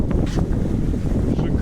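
Steady gusty wind roars across the microphone on a sailboat making about 5.5 knots under small sails near Tenerife and Gran Canaria on a windy evening, with faint water rush beneath and no talk.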